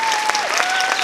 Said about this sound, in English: A big applause for 40 kilo weight.